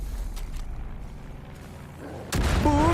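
A low rumbling passage gives way to a sudden loud dynamite blast in the video game Far Cry 5 that lingers as a heavy, sustained roar.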